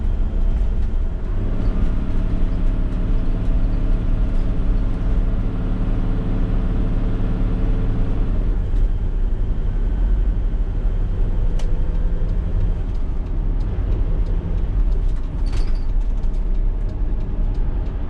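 A 1993 Toyota Coaster bus with a 1HD-T engine drives on air suspension, making a steady, loud engine and road drone throughout with faint rattles and no talking.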